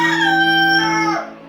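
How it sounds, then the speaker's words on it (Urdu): A rooster crows in one long, loud, sustained call that holds its pitch and then trails off, heard clearly and alone. "مرغے بھی پیچھے سے آ کے مجھے یہ آوازیں دینے لگتی ہیں۔"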